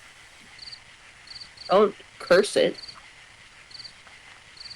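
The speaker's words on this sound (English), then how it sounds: "Can you hear the crickets?" Repeating high cricket chirps in short bursts sound steadily through a foggy carnival level of a horror video game, under speech.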